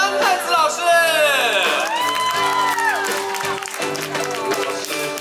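A live audience applauds and cheers for a guest performer at a concert, with clapping, shouts and whoops under loud sustained singing and music.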